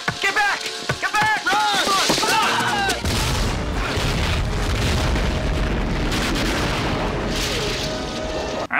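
Loud booming explosions from the film Tremors, with rolling rumble and debris, mixed with shouting voices and dramatic action sounds.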